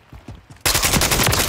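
Dense Call of Duty gunfire erupts abruptly and roars on continuously at full loudness, following a brief stretch of quieter rhythmic thumps.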